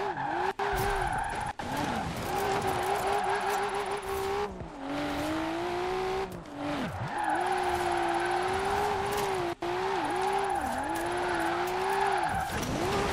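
A Nissan R33 Skyline drifts in Forza Horizon 4, the engine holding a steady loud wail with dips and surges while the tires squeal continuously through the slide, broken by a few brief gearshift gaps.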